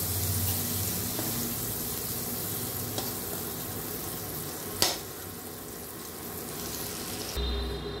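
Prawns fry lightly in oil in a pan, making a steady close sizzle with a couple of sharp utensil clicks and a brief shift in the sound near the end.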